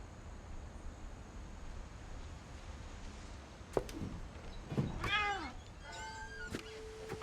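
A cat in the game What Remains of Edith Finch gives a few short meows over quiet background hiss, faint at first and then clearer in the last seconds.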